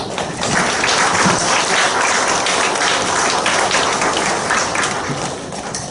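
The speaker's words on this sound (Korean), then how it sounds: "유학생들 격려하는 박수." Steady, loud applause from an assembled audience at a university chapel service, dense overlapping clapping that fills the space evenly for about six seconds, slightly building at the start and fading at the end, with no speech over it.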